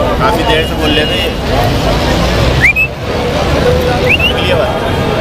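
A parrot at the Sunday bird market in Lalukhet, Karachi, gives two brief rising whistles, a second or so apart, faint under steady crowd babble and traffic noise.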